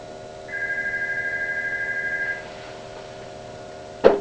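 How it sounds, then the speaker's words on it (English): A telephone rings once for an incoming call: a steady electronic trill lasting about two seconds, fairly loud against a quiet room hum, followed by a short clunk as the handset is picked up. "Let's take a phone call from a viewer."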